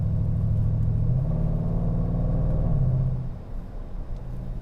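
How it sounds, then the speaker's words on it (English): A Range Rover Sport SVR on a winter drive gives a deep, continuous engine and exhaust rumble from inside the cabin, with the pitch shifting slightly as it pulls along, then easing off. "I can't stop talking about the sound. It's one of the best things about this car."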